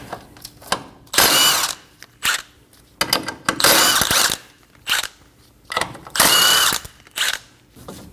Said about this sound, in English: Using a 17mm socket, remove the 3 nuts for the lower ball joint.